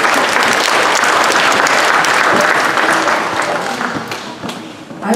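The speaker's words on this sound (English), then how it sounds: "So let's give a little clap to that," Congregation clapping in a church during a Girl Guiding Thinking Day service, a dense, close round of applause that swells and then thins toward the end with a few scattered claps.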